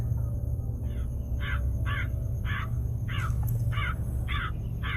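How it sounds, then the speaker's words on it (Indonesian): A crow caws repeatedly on the slopes of Mount Lawu, giving a steady series of about eight harsh, evenly spaced calls over a constant low background rumble, with no talk. "mereka mendengar ada suara burung gagak lagi"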